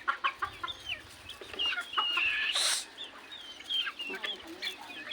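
Chickens cluck and a rooster calls at close range while being fed rice, the birds jostling, with a louder flurry of squawking in the middle and scattered clucks throughout.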